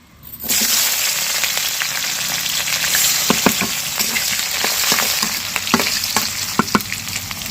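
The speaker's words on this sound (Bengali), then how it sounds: "এবার হচ্ছে এই কড়াইতে আমি এবার তরকারি দিচ্ছি" Vegetables drop into a hot oiled karahi and burst into a loud, sudden sizzle that holds steady, with scattered crackles and pops from stirring, close and with no voices.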